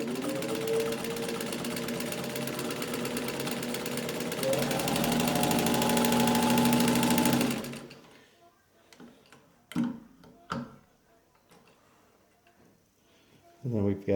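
A restored Singer 15-91 sewing machine stitching through a paper towel, a steady fast mechanical whirr for about eight seconds that then stops, followed by a few scattered clicks and handling knocks.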